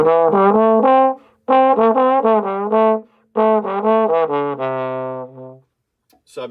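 A trombone plays a slowed pentatonic exercise in C in the lower octave, sustained held notes in three loud phrases with short gaps, the last note longer and fading, with no voice.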